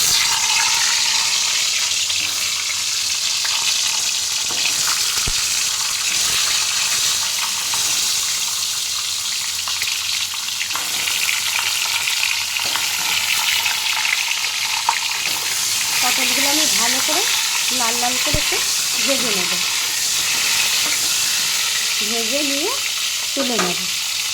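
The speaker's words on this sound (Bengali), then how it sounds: "এবার আমি পটলগুলোকে ছেড়ে দেবো এই তেলে" Pieces of pointed gourd fry in hot mustard oil in a kadai, a loud steady sizzle that runs throughout, with occasional stirring scrapes and brief faint voice-like sounds in the background.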